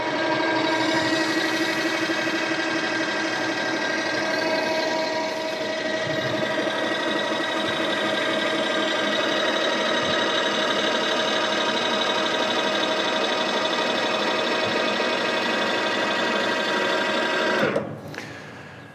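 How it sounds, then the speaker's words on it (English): Electric tip hopper on a PC120 ATV paddock sweeper closing, a steady mechanical whirring hum that runs for about seventeen seconds and then cuts off abruptly, close by with no talking. "To close the hopper again, it's a one button operation."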